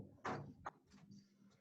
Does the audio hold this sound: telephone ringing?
no